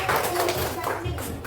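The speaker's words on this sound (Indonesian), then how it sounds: "Tepuk tangan dulu buat teman-teman kita yang betul." Applause from a classroom of children, a dense, steady patter of many hands clapping together for about a second and a half, fairly loud and close, with faint voices mixed in.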